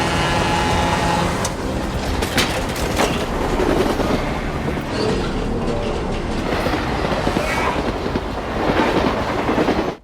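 A train running on rails with a heavy, continuous rumble and metallic clatter. It is loud and close, holds steady for about ten seconds, and cuts off abruptly at the end.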